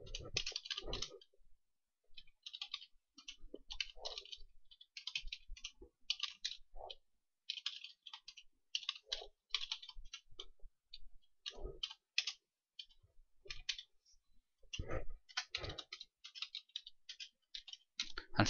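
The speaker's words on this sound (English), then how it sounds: "If we start to type the company name," Quiet keystrokes on a computer keyboard as a company name and details are entered into a business software form, the clicks coming in irregular bursts separated by short pauses, close and alone.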